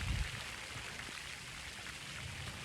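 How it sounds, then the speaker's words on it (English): Steady, soft hiss of rain falling, an even wash of drops with no pauses, fairly quiet and continuous throughout. "it's raining, so it started raining"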